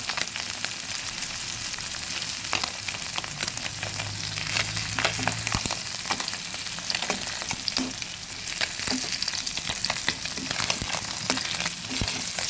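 Puti fish with onion shoots frying in a pan while being stirred: a continuous crackling sizzle broken by frequent sharp scrapes and clicks of the utensil, close and steady, with no voices.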